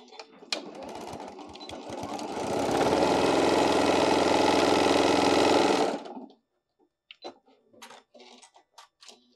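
Sewing machine stitching down both sides of a fabric bunny ear basket, a steady mechanical whir that builds from short bursts into a loud continuous run for several seconds, then stops, followed by faint handling clicks.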